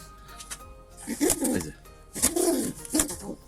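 A pigeon coos close by in two throaty, rolling bursts, with a short pause between them.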